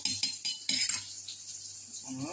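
A metal spoon clinks and scrapes against a bowl while soy, tomato and chilli sauces are mixed, several quick sharp taps followed by softer stirring, close and fairly quiet.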